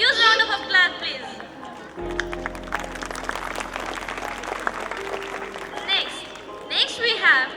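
A concert audience at a kids' annual school show applauds steadily for several seconds, with crowd chatter and voices layered over the clapping and louder bursts near the start and end.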